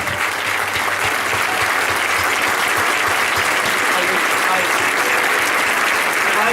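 Loud, sustained applause from the townspeople of Lastres fills a packed public ceremony honoring a local seafarer, a dense steady wash of clapping that holds at full strength throughout without a break.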